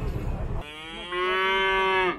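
Calf mooing at a livestock bazaar in Zharkent, a single drawn-out nasal moo that rises and holds for over a second, loud and close after a short stretch of crowd noise.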